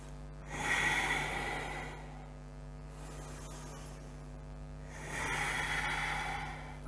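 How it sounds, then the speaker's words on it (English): Slow, deep breaths during a yoga forward fold in a level 1-2 vinyasa class: two long, soft airy exhales a few seconds apart, close and fairly quiet over a steady electrical hum, with no talking. "Take another 3 deep breaths here"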